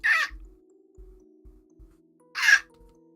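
A person twice lets out a short, rasping, high screech in imitation, separated by quiet stretches with faint low thumps.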